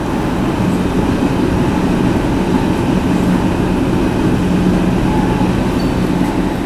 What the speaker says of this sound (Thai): ตอนนี้ก็นั่งรถไฟมาถึงที่สถานีโอลาเนนบวกแล้วนะ